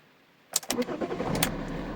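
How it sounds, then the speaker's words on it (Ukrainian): A Fiat Doblo engine with an EGR valve fault cranks and catches at about the halfway point, then settles into a steady low idle; close by, with no talking. "коли ми запускаємо двигун,"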